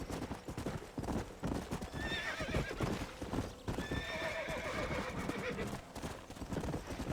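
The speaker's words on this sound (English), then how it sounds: "And then my horse started sprinting." A horse in the Western video game Red Dead Redemption gallops with rapid clip-clop hoofbeats and lets out two loud whinnies, close and continuous, with game sounds mixed in.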